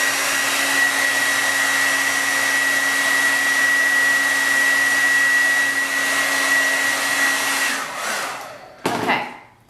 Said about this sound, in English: the thing I do now is I just blast my hair with hot air